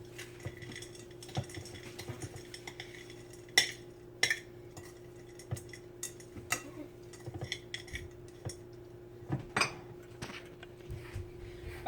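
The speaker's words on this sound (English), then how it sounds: "And now I'm going to use my spoon to mix it." A spoon stirs cookie dough in a bowl, giving irregular scrapes and light clinks against the sides over a steady low hum, with no talking.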